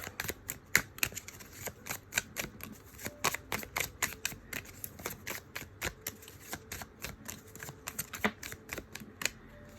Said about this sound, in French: ces cartes, je galère à chaque fois à les battre comme ça parce qu'elles sont petites